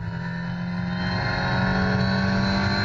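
A Viper GT race car engine at Mugello holds a steady, loud, sustained drone with a slowly rising pitch as it pulls along the circuit, no voices over it.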